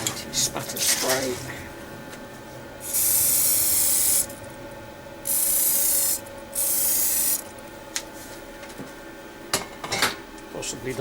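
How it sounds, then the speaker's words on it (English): Anti-spatter spray hisses onto a welding nozzle in three loud bursts of a few seconds each, close to the mic, between handling clatter and quiet spoken remarks. "Spatter spray."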